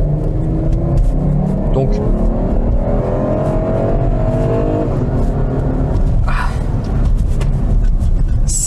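A four-wheel-drive Porsche Cayenne engine revs up hard and pulls away with a rising roar, loud and close, with a brief voice heard at the start.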